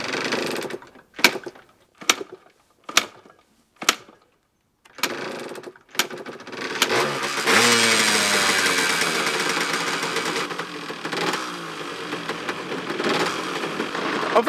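A U7 motorcycle engine being started: about seven short sputtering cranks separated by silence, then the engine catches and runs with a steady, loud buzzing idle that revs and settles, no talk.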